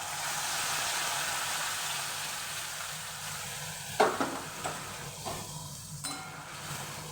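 Whole garam masala of cinnamon, green cardamom and cloves sizzling in hot oil, a steady soft hiss with a few sharp spits and clinks in the later seconds.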